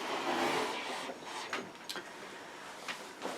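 A sewing machine runs steadily around a chunky bag's lining and main body, a continuous whirring motor hum that thins out into a few scattered mechanical ticks and shuffles toward the end.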